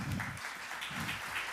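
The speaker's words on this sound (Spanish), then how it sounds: "Se las recibimos con este aplauso." Audience applause welcoming doctors onto the stage at a talk on prevention, a brief burst of many hands clapping at moderate distance with a low murmur beneath.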